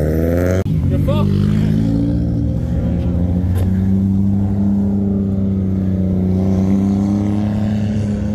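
Drift car engine at a Japanese drift event, a steady loud droning rev held throughout with a brief sharp knock near the start, voices talking over it.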